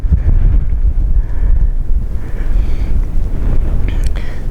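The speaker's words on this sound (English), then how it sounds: "Quite a cool wind blowing" Strong wind gusts on an exposed hilltop, buffeting the microphone with a loud, continuous low rumble that surges and eases throughout.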